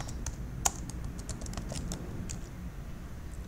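A quick run of light keystrokes on a computer keyboard types a search query into Google, soft clicks over a steady low background hum, with no talking.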